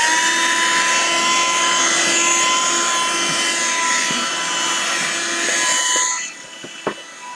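A workshop vacuum cleaner runs steadily and loud with a constant whine for about six seconds, then cuts off, leaving a few faint knocks and a short clatter.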